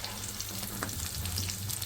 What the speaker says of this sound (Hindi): अब हम इसको दोबारा फ्राई करेंगे